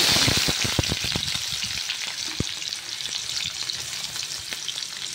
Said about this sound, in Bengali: শাক ভাজি করার জন্য তেল গরম হয়ে গেছে। এবার আমি দিয়ে দেবো কেটে রাখা পেঁয়াজ